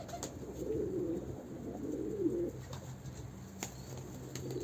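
Pigeons coo softly in two low, rolling phrases over quiet background noise, with a few faint clicks.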